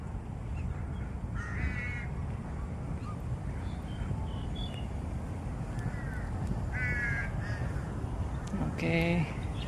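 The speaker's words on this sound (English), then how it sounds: "I know all of you guys can recognize what kind of blackbird is it." Crow-like blackbird caws in a city setting, several harsh calls repeating over steady urban background noise, moderately distant, with a louder burst of calls near the end.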